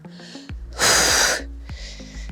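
A single forceful, breathy exhale during a glute activation workout lasts about half a second, loud and close, between softer tonal background sounds.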